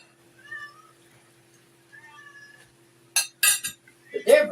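Several cats meow in short, loud bursts near the end, drawn by the smell of baked striped bass and shrimp in a home kitchen; before that, quiet talk and faint dish sounds.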